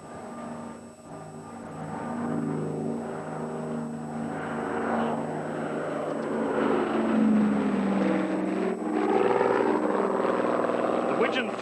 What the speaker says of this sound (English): graceful newcomer to the display scene is the Grumman Widgeon, and it's appearing for the first time on our screens